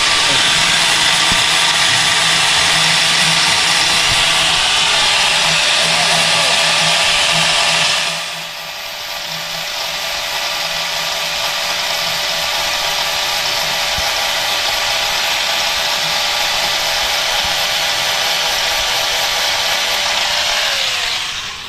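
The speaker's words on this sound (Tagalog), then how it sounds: "Grinder" A power grinder works on a newly built boat, a loud, continuous high whine that dips briefly partway through and then runs on steadily.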